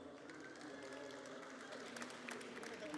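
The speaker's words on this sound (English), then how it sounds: "Give them a round of applause." Applause from an audience at a crypto gaming panel, a steady wash of many hands clapping, faint and distant, with some crowd murmur.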